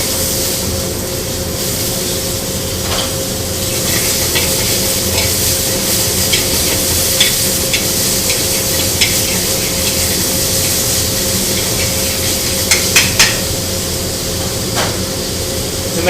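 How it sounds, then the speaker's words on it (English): Pineapple being stirred in a pot for Vietnamese sweet and sour soup, a continuous hiss and sizzle with occasional soft clinks of a utensil, close and steady with no talking. "Stir."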